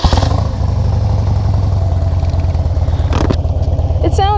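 A 2007 Harley-Davidson Dyna motorcycle engine cranks and fires, then settles into a loud, steady, lumpy idle with a deep rhythmic pulse close by, with a brief rev or clatter near the end.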